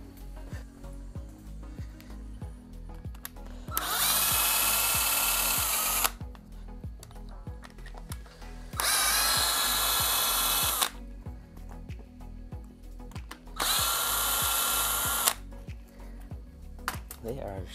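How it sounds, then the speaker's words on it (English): A power drill works fine-threaded bolts off a Yamaha R6 motorcycle during maintenance, three loud sustained whirring bursts of about two seconds each, separated by quieter stretches of clicking and low background sound. "I'm gonna grab a drill so this is a little quicker."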